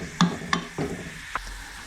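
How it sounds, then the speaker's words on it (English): Garlic stirred in a hot pan, a low sizzle under a few distinct scrapes and clinks of a spoon against the pan, close and clear, with no voices. "Of course, stir the garlic in."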